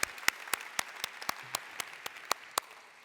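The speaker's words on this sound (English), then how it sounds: "a round of applause for all of you" A handful of separate, sharp claps land at an uneven pace, sparse and fairly close, with quiet gaps between them.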